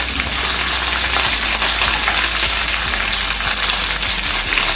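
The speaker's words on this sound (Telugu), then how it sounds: "ఇవన్నీ ఇలా ఒకసారి ఫ్రై అవ్వాలండి. ఇది 1 నిమిషం పాటు వేయించుకోవాలి." Mustard seeds, cumin, coriander seeds and chopped green chillies fry in hot oil for gongura pappu, a loud continuous crackling sizzle with dense popping throughout and no talking.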